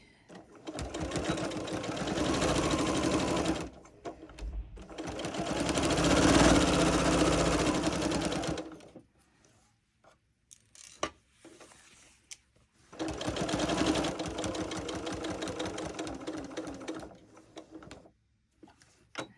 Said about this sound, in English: I will back stitch there also